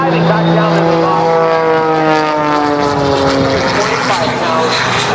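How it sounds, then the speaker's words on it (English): Oracle Challenger 3 aerobatic propeller plane diving low at the Wings Over Houston 2018 air show, a loud, steady engine drone with a falling Doppler pitch as it passes, continuous across the whole span amid outdoor crowd ambience. "The Oracle Challenger 3 diving back down to the bottom."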